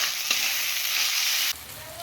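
Tomatoes fry with chili and turmeric powder for an okra dish, giving a loud, dense, steady sizzle up close that drops abruptly to a softer hiss partway through.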